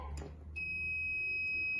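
A high electronic alarm tone from a radiant heat warmer sounds continuously and steadily after a short thump, triggered by a drop in temperature after heating failure, clear and close, with no talking.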